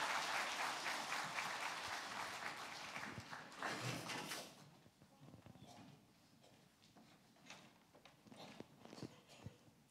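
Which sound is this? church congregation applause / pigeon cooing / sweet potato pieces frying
church congregation applause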